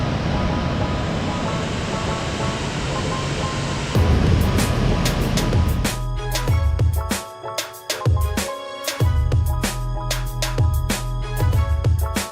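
A small waterfall beside a cave in Croatia gives a steady rushing roar of falling water, loud and close, later broken by bursts of crackling, buffeting noise.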